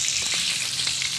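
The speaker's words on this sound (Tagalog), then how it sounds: "So, ayan guys, nagprito na ako ng isda." Fish sizzling and crackling in hot oil in a frying pan, a short close burst of steady frying hiss with small pops and no talking.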